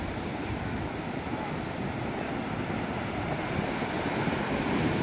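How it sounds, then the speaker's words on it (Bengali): Dense, continuous roar of surf breaking at night on Cox's Bazar beach, with wind buffeting the microphone, steady and loud throughout with no distinct pauses. "একের পর এক বড় বড় ঢেউগুলো"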